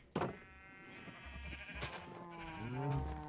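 Minecraft cows lowing in a wheat field, several drawn-out tonal moos overlapping one another at moderate distance, with a deeper, louder call rising near the end.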